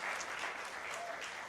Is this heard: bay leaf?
no